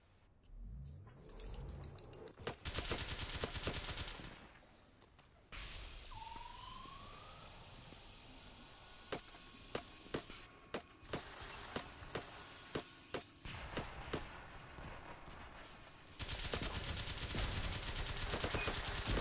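Gunfire in a video game: bursts of rapid automatic shots at close range, some loud sustained volleys and scattered single shots between quieter stretches, with a brief rising whine partway through.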